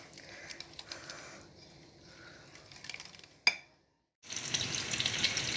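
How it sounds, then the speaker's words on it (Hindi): Onion sizzles in half a cup of oil in a kadai, a soft crackling fry with stirring noises, briefly cut to silence before the frying resumes a little louder. "1/2 कप ऑयल डाल के तो 1 प्याज इसमें डाल दिया है।"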